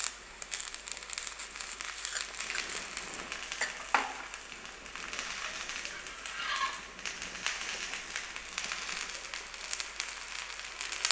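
Pasiparuppu dosa batter frying in oil on a hot pan, a continuous close sizzle with crackling bursts and a brief scraping stir partway through, no voices.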